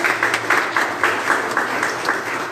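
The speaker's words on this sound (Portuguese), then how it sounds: "Uma salva de palmas para o nosso Deus" Church congregation applauding during a worship service, a steady patter of many hands clapping at moderate distance with no voices over it.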